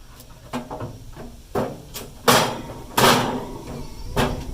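A metal cooking grate for a Grilla Grills Silverbac pellet smoker is set into place, giving several sharp clanks and knocks of metal on metal, with a couple of louder bangs near the end and no talk.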